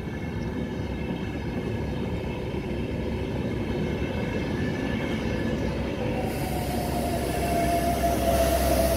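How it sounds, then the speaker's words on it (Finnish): A passenger train heading north rolls along the rails, heard from inside as a steady, loud rumble with faint wheel squeal that builds toward the end. "Melko tyhjä juna on."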